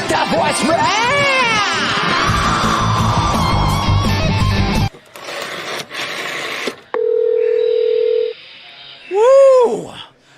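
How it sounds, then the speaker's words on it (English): Telephone keypad tones dial in to check voicemail, with a short series of distinct beeps and a steady held tone following a burst of loud screaming music and voices. "Are you ready to check the voicemail?"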